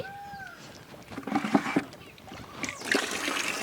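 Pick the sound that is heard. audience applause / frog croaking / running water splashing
running water splashing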